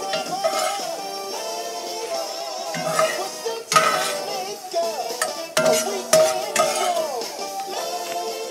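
Browned food is lifted from a pan and set onto a plate, with a series of metallic clinks and scrapes of utensils against cookware, irregular and close, over a soft background of music.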